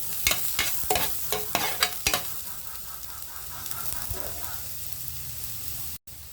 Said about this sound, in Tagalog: Gisa na natin. Yan, may mantika na. Bawang.